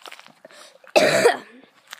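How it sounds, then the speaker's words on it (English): A single harsh cough bursts out close and loud after a stretch of faint sounds, fading quickly into quiet. "I'm coughing because I'm hungry."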